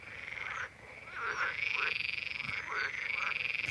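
Frogs croak at night by a lake at Chantecoq on the Lac du Der, a dense chorus of rapid calls repeating steadily and fairly close against the wetland.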